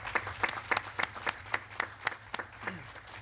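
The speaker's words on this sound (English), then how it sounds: "I wish you would give them a round of applause." A small group claps for bank employees at a scholarship press conference, the individual claps distinct and fairly quiet, arriving in a loose, uneven rhythm.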